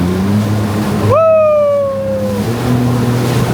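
A jet ski pounds across choppy sea waves off Dubai, its engine droning steadily with a rising whine as it lifts and slaps down, while a rider whoops briefly over the noise.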